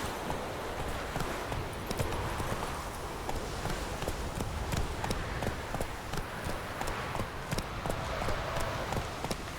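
A horse gallops in The Witcher 3 video game, with steady, rapid hoofbeats running continuously at a constant loudness over a rustling outdoor game ambience.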